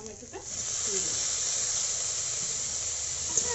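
Chopped tomato goes into a hot pan of egg masala bhujia with onion and green chilli, setting off a steady close hiss and sizzle that swells after a brief clatter and then holds evenly.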